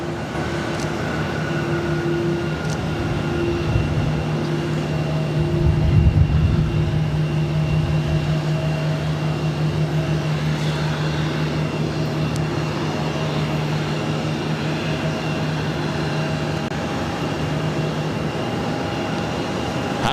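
Airbus A330-200 jet at Boston Logan, a sustained distant engine rumble with a steady whine, swelling briefly around the middle before holding level.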